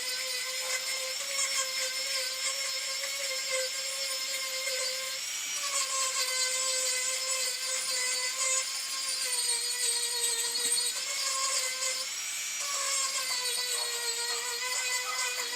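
Marathon micro motor handset with a carbide burr furring a deer woodcarving gives a steady, high-pitched whine that rises and dips slightly in pitch as the burr bites, continuous and close for the whole stretch.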